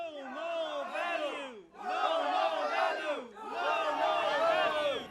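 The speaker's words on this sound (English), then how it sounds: "We hear a protest chant growing in volume" Protest crowd chanting a repeated slogan in three loud, rhythmic surges, many voices in unison, each phrase swelling and breaking off before the next.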